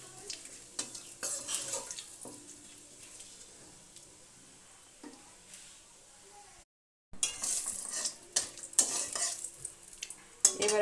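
Whole cumin and bay leaf stirred in hot oil left from frying fish, a soft sizzle broken by scraping and clinking of a spatula against the pan in irregular bursts, with a short silent gap midway.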